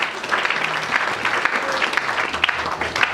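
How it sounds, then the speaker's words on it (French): A church congregation applauds with steady, lively clapping that fills the room for the whole moment, close and loud with no pause. "Est-ce qu'on peut acclamer pour le Seigneur?"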